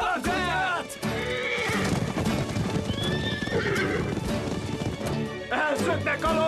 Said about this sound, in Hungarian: Elszöktek a lovaink!